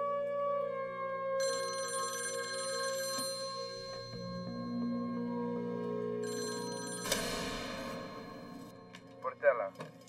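A telephone rings in repeated electronic trills over a sustained musical score, with a few louder clicks and thumps near the end.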